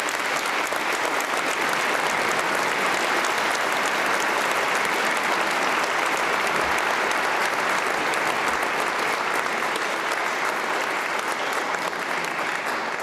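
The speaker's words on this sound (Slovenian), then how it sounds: "Tako da en aplavz za PMB, prav, Posavski muzej Brežice." An audience applauds steadily and loudly at a gala New Year concert, a dense wash of clapping that holds for the whole stretch with no voices on top.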